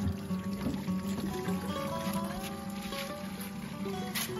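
Spring water from a natural mountain stream in Chamba, Uttarakhand pours steadily into a container, a continuous splashing trickle heard fairly close with no talk over it.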